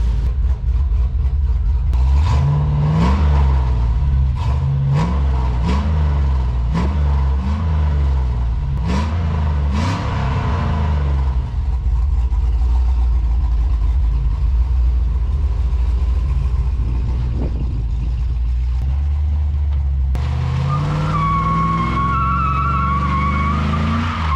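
A Chevrolet S10 pickup, 1999, with an LS engine swap and a new stall converter, revs repeatedly and squeals its tires in a loud burnout, followed by a sustained high-pitched tire screech.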